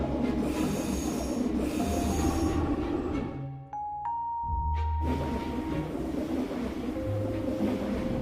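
A train pulls into a railway station with a steady rumble and clatter of wheels on track and brief high squeals, pausing near the middle before the heavy rolling noise resumes, loud and close.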